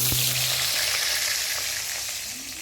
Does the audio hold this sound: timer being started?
no